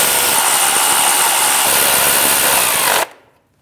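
Power tool with a 13mm socket snugging alternator mounting nuts on a 2016-2025 Chevrolet Malibu 1.5L L4, a loud continuous whirring drone that cuts off abruptly near the end.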